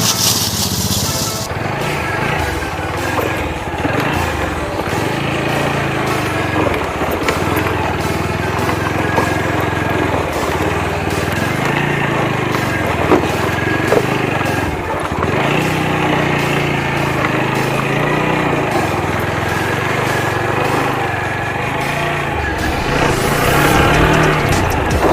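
Motorcycle rolling slowly over small stones near Rishikesh, a steady buzzing engine with irregular crunching and rattling bumps, close and continuous.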